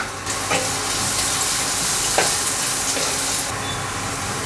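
Sliced onions and slit green chillies sizzle steadily in hot oil in a pan, a constant close frying hiss with a few soft scrapes of stirring, no voices.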